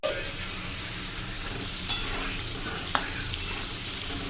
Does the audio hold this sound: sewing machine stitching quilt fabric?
no